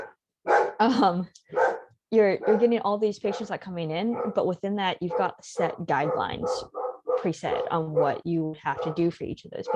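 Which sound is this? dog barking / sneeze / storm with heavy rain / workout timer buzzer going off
dog barking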